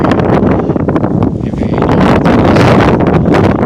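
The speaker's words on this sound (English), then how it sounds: "It's a cool, windy Indiana morning, afternoon actually. Very windy." Strong wind on a cool late-fall Indiana day buffets the microphone with loud, gusting rumble and rustle, steady throughout with brief dips.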